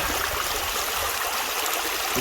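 Flowing water from a mountain creek at a gold prospecting spot, a steady, loud rushing and gurgling wash that stays constant with no voices.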